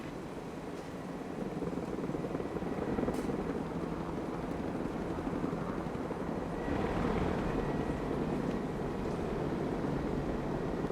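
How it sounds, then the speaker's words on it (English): Apache gunship helicopter in the video game Broken Arrow, a steady loud rotor and engine drone holding continuously throughout with broadband roar, no talking over it. "Another Apache. Apache gunship."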